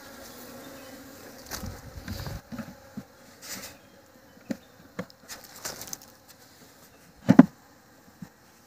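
Honeybees at a beehive box make a faint, steady buzz close by, with occasional louder passes from single bees. Soft handling knocks and rustles and a sharper tap break in, and there is no speech.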